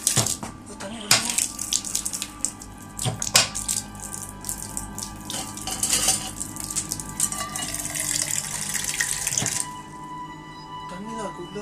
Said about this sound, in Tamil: தண்ணி வருது.